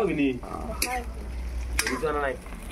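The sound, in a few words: ginger and garlic frying in a pan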